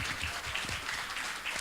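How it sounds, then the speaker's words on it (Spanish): An audience at a comic-book talk at a Santiago festival claps, a brief, fairly quiet spell of applause, with faint voices underneath. "un fuerte aplauso para los tres"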